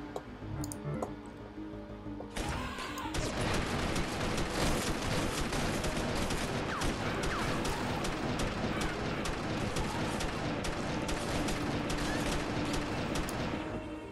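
Rapid gunfire from the Flash game Radioactive Teddy Bear Zombies: after a brief quieter start, a dense, continuous crackle of shots runs on steadily at a loud, even level to the end.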